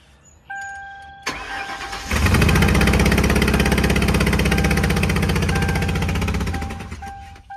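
A Ford Crown Victoria engine cranks and starts, then runs loud and rough with a cylinder misfire, an uneven, stumbling rhythm close by for several seconds before easing off.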